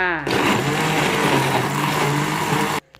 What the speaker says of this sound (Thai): ปั่นพริกกับกระเทียมไปก่อนจ้า